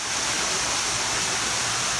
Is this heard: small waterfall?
yes